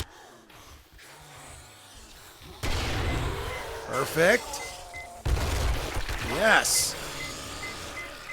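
Demolisher explosions in the video game 7 Days to Die land in two heavy booming bursts with rumbling debris, while someone talks briefly and excitedly over them.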